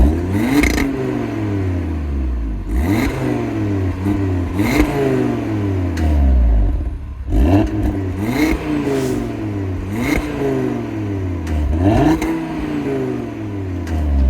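An Audi TT RS Iconic Edition's engine, heard through its optional Sport RS exhaust, rises in repeated sharp revs to the limiter, about half a dozen climbs and drops with deep rumble and crackle, loud and close.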